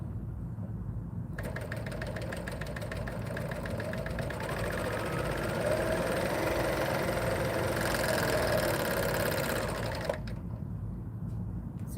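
Sewing machine running at steady speed while stitching fabric for a quilt block, a continuous mechanical whir lasting most of the stretch, with quieter handling noise before it starts and after it stops.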